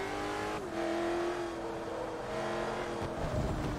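Race car engines in the racing video game Forza Motorsport 3, including a Maserati overtaking a Porsche: a steady, close, high-revving engine drone with pitch shifting through gear changes, no talking.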